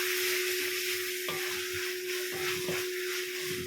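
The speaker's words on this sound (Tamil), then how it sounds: "இப்போ இஞ்சி பூண்டு பேஸ்ட்டு நல்லா பச்சை வர போகிற அளவுக்கு நான் என்ன பண்ணிட்டேன் வதக்கிட்டேன்" Ginger garlic paste sautéing in a pan gives a steady close sizzle with a few soft stirring scrapes, no talk over it.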